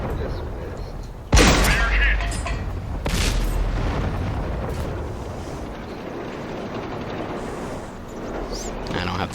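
Tank guns boom in World of Tanks gameplay with the VK 30.02D in the fight, a sharp loud blast near the start and another a couple of seconds later, then rumbling battle noise with someone talking over it.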